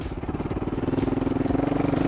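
AOneCool enduro motorcycle engine running at low throttle, around a quarter open, on a ride with a passenger: a steady, rapid low putter with even firing pulses that swells slightly, close-miked and without talk.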